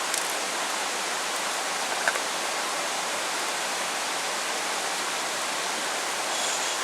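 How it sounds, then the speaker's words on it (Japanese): Loud, constant rushing of a flowing river at a campsite during a typhoon, a dense unbroken roar that stays level from start to finish with no voices. "川の音がしかしないからね"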